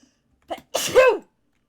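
A single loud, sharp sneeze, preceded by a quick intake of breath, close by and otherwise silent.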